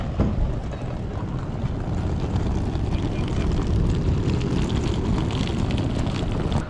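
Airplane in flight on the way to Kodiak Island, Alaska, a steady, loud cabin drone of engines and airflow that holds evenly throughout with no voices.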